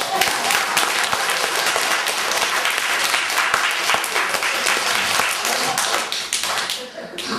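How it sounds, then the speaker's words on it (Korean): Applause from the audience at a Korean Buddhist lecture on the Buddha's enlightenment, steady dense clapping for several seconds that thins toward the end. "박수 쳐, 박수 쳐."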